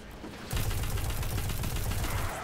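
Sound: Uriel's Gift auto rifle firing in video game Destiny 2

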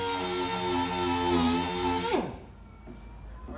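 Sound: power sanding a truck body panel

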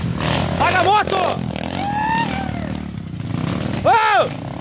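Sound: motorcycle engine revving

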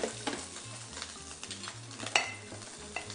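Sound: milk being heated and stirred in a pan

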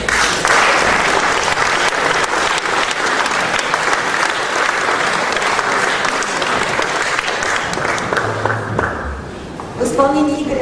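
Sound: concert audience applause

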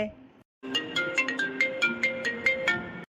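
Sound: phone ringtone

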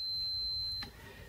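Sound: multimeter continuity beep

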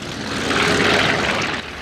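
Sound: historic bomber plane propeller engines running

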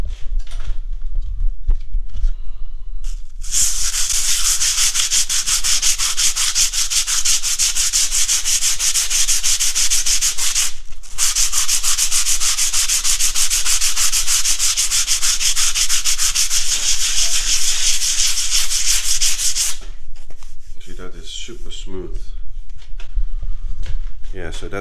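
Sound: sanding rendering smooth with an old bit of sandpaper

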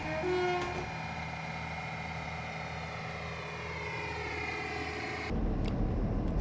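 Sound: diesel multiple unit train running, from Train Simulator Classic video game

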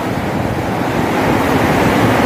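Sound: rushing water at dam barrage

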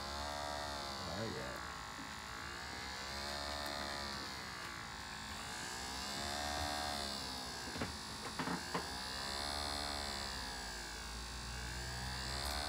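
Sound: LG dishwasher motor running

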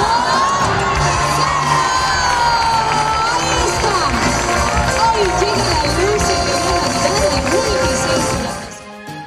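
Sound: crowd cheering and children shouting at Christmas lights event

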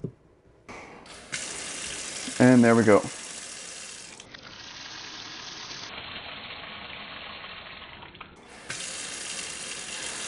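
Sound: water running from a kitchen faucet after turning it back on

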